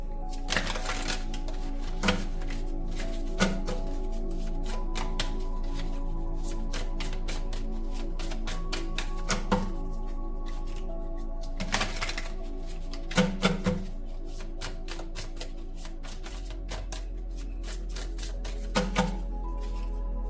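Tarot cards laid out one by one on a surface, producing quiet intermittent taps and card slaps spread across a steady faint background hum.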